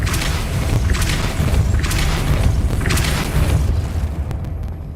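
A Depulso force spell is cast in Hogwarts Legacy, giving a loud rumbling magical boom with repeated bursts of energy that hold steady for several seconds before cutting off abruptly.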